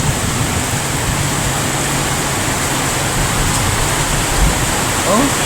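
Heavy rain in Bangued, Abra, pours steadily and loudly throughout, a dense continuous wash of noise with a faint low rumble underneath, water running along the road.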